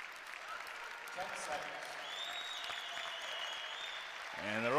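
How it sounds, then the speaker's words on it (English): A college wrestling crowd at a Rutgers home dual meet against Illinois applauds and cheers in a sustained distant roar, with an announcer talking over it and the noise swelling near the end. "And the Rutgers crowd rising to their feet as John Poznanski is going to finish out thi"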